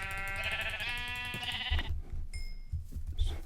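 Sheep bleating in the Minecraft video game with the Buildcraft mod: a wavering harmonic bleat fills the first couple of seconds, then trails off into softer blips and thumps.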